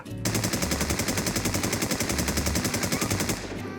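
Rapid automatic gunfire from the Infestation SEA shooter game, one continuous loud burst of evenly spaced shots lasting over three seconds, with no talking.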